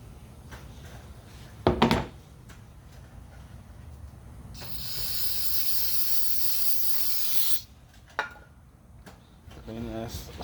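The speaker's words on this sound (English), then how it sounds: "Clean this with some brake clean." An aerosol can of brake cleaner sprays in a continuous hissing burst lasting about three seconds, close by, framed by knocks and handling noises during an in-tank EFI fuel pump install on a 1979 Ford F350.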